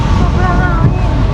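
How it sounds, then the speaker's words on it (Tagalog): Strong wind roars across the deck of a car ferry heading to Vancouver Island, buffeting the microphone with loud, low rumbling gusts in a short burst, while a voice sounds faintly underneath. "sobrang hangin"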